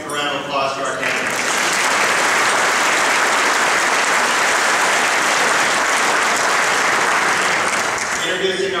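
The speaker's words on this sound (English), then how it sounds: "let's give a round of applause to our candidates" An audience at a Forum Club luncheon applauds the candidates with sustained, dense clapping that swells quickly and holds for several seconds. A voice is heard briefly before it begins and again as it fades.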